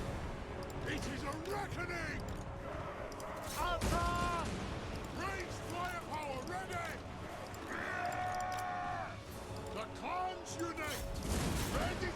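Thunderer handgunners firing in a fantasy battle strategy game, a busy mix of repeated gunshot cracks and volleys over game music and battle noise, with a voice talking over it throughout.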